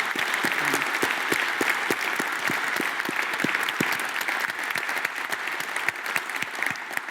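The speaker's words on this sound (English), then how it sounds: "Let's give a round of applause for all the panelists who participated in the program." Steady applause from a conference audience at a healthcare leadership summit, many hands clapping in a dense continuous wash with a few louder nearby claps standing out.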